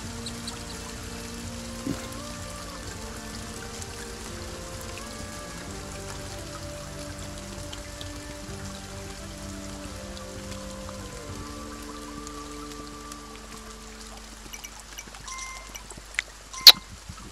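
Rain falls in the video game Kingdom Two Crowns as a soft, even patter. Quiet melodic game tones sustain above it, and a couple of sharp clicks come near the end.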